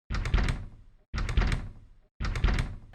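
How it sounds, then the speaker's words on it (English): A locked door in a Godot video game gives three identical short rattling thunks, evenly spaced about a second apart, loud and close with brief silences between them and no talking. "we will be adding a sound effect to our locked door"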